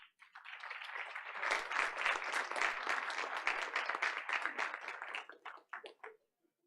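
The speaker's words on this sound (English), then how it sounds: "Let's give them a round of applause" An audience at a Board of Education meeting claps steadily for several seconds, swelling quickly and then tapering off to a few final claps before silence.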